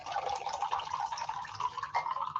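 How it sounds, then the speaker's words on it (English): Iced coffee mixed with Tito's vodka pours into a glass in a steady, close trickle with light splashing and bubbling that runs the whole time, with no talking over it. "Get a little ASMR right in there. A drink pour."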